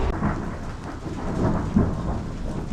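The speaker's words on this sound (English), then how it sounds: "Do you hear that thunder?" Rolling thunder in Sedona, Arizona during an afternoon rainstorm, a sustained low rumble with rain hissing steadily throughout and a slight swell partway through, no voices.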